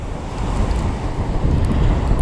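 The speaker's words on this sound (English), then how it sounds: "I've got 60-mile-an-hour gusts" Strong wind gusting to 60 miles per hour buffets the microphone on a beach in Great Yarmouth in a continuous roaring rumble, surging in gusts with no voices.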